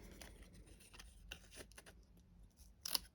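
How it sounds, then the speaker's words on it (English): Scissors snip a paper sentiment into a simple box shape, a few soft, close cuts spaced irregularly in a quiet room. "I am literally just cutting it out in a box."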